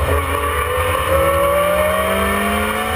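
A heavy BMW M3 V8 and a lightweight supercharged 1.8-litre Lotus 211 race at Spa-Francorchamps, with loud, sustained engine roar whose rising pitch sweeps as the cars accelerate.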